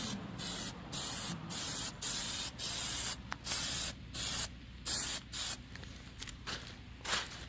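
Spray paint going onto metal grills in short, repeated bursts of hissing, about ten passes separated by brief pauses, for a light first coat applied all around from every side; no voices.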